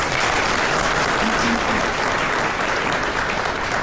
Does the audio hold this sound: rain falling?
no